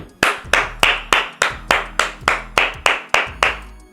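Hands clap a dozen times in an even rhythm, each sharp clap close and loud with a short ringing tail, no talking.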